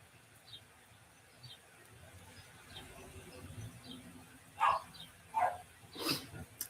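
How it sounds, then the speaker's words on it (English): Three sharp barks from a dog close by near the end, following a stretch of quiet background hiss with faint distant chirps. "if you can hear my dog barking"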